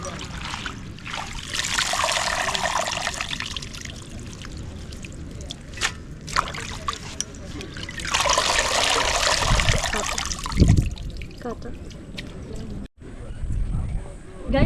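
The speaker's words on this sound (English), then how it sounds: "So let me rinse this sufuria" Water runs and splashes while a sufuria cooking pot is rinsed outdoors near a beach in an African village, a steady trickling wash with a few louder splashes, and speech is present in places.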